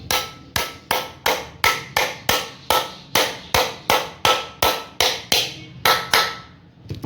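A hammer strikes steadily as a 6201 bearing is driven into a ceiling fan, about fourteen sharp metallic knocks in an even rhythm, each with a short ringing decay, loud and close, with no talk.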